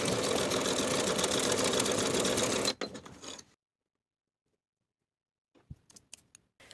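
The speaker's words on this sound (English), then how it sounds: "Sew the darts in place from the top to the point" A sewing machine stitches darts from the top down to the point, a steady close whir that stops abruptly partway through, followed by near silence and then a few soft handling clicks.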